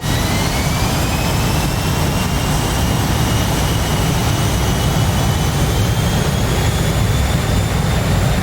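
A jet aircraft engine roars at full power during takeoff in the DCS flight simulator, a loud, steady, close blast with a rising whine layered over a deep rumble and no talk.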